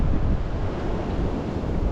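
Strong gusting wind from Storm Darragh roars steadily into the microphone at an exposed wild camp near a farmhouse, a loud continuous rush with no pauses and no talking.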